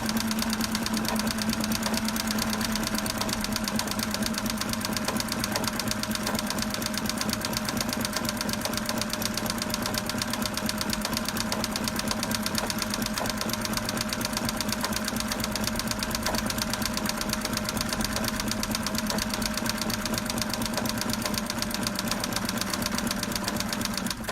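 A sewing machine stitching rope for a coiled rope bowl runs continuously with a fast, even mechanical chatter and hum, steady and close, no pauses, and nobody speaking.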